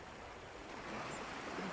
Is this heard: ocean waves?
yes